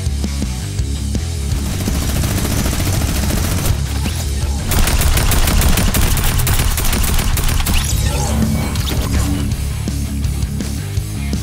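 Automatic gunfire rattles through a Fortnite battle in dense, sustained bursts, loud and continuous over a driving music bed with no break.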